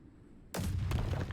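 A sudden grenade blast in the war game Call to Arms, a single booming burst after a quiet stretch, followed by a sustained rumbling roar with a few crackling pops, with no voices.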